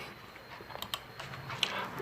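Scattered keystrokes on a computer keyboard while entering a number into a silver and gold melting calculator program, soft and close, a handful of irregular clicks over a faint room hiss.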